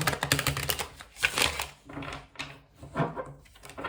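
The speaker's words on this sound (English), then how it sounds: "we will give the deck a few more shuffles" Crisp riffling and rapid flicking of cards being shuffled close by, in several short bursts with brief pauses between them.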